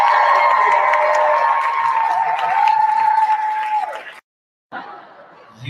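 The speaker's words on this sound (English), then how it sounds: "Give them all a big round of applause." A live comedy show audience cheers and whoops loudly and steadily for about four seconds, with scattered laughter mixed in, then drops briefly to silence before a quieter crowd murmur returns.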